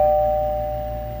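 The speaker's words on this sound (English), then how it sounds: "Someone's ringing the doorbell." A single electronic doorbell chime rings clearly and then fades away over a steady low hum.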